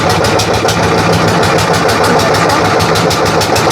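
A motor boat engine runs steadily on a dam reservoir in Bankura, a loud, constant drone with a rhythmic throb throughout and no voices.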